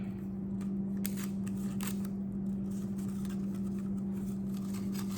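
A paper strip is taped onto a toilet paper tube for an apple craft, giving faint crinkling and sticky tape rustles over a steady low background hum.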